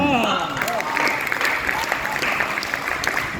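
Dense, steady applause from an audience at a Hindi poetry recital, a continuous wash of clapping that stays loud and even for the whole stretch, with a faint voice briefly audible at the start.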